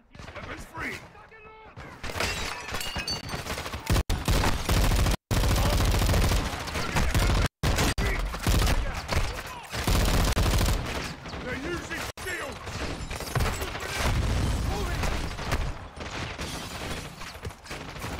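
Sustained heavy gunfire in the Call of Duty Modern Warfare II campaign, dense automatic bursts and fusillades filling the whole stretch with a few brief gaps, loud and close, with shouted voices under the shooting.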